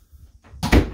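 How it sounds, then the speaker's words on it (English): A household door near a washing machine being removed swings open with a soft creak and then a heavier thump and rattle, short and close. "I'll get it so that I can swing the door open"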